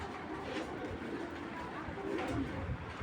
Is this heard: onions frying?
no